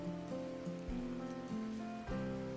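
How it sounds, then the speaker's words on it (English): Rain falls in the farming video game Farm Manager World as a soft, steady patter beneath sustained, gently shifting game music tones, at a low level throughout. "it's raining right now"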